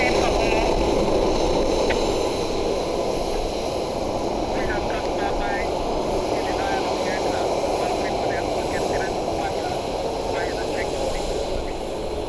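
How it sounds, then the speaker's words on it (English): Freedom One aircraft taxiing out to the runway at Columbus Glenn Airport, a steady loud engine drone and hum filling the whole stretch, with faint radio-like chatter in the background. "Freedom 1 rolling out to the runway."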